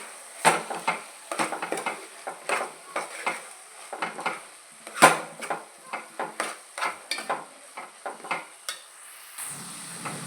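A spiced tomato curry with chili powder, turmeric and salt stirred in a pot, with repeated scraping and clinking strokes of a spoon against the metal in an uneven rhythm, close and fairly loud, without talking.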